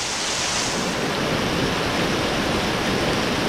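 Steady rain pouring onto ground already forming puddles, a dense, even wash of noise that stays constant and close throughout with no voices.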